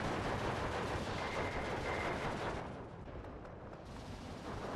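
Mortar fire in the Steel Division 2 strategy game crashes down as a steady, rumbling barrage of distant booms and crackling gunfire, which thins out and fades toward the end.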